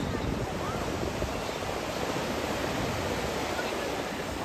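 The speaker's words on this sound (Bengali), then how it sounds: "আমরা এখন রয়েছি পুরীর সমুদ্রে।" Sea waves at Puri beach make a steady broad wash of surf, fairly soft and constant with a hint of wind, and no talking.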